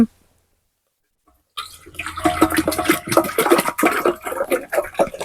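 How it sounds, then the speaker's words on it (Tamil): After a second of silence, water pours and splashes steadily into a puttu steaming pot on a stove nearby, with a gurgling, uneven flow. "இப்ப வந்து புட்டுப்பானை அடுப்புல வச்சுட்டு தண்ணி விட்டு கொதிக்க வைப்போம்."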